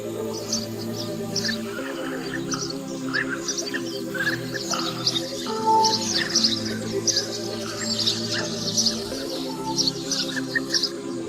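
Carmine bee-eater calls in the wild: short, repeated chirps and trills at moderate distance, steady over a continuous low hum of wild ambience, with no talking.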